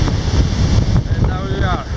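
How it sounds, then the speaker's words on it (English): A strong wind gust sweeps across a lake, roaring against the microphone with heavy buffeting, spraying water and some splashing, loud and close throughout. "the next gust is coming now"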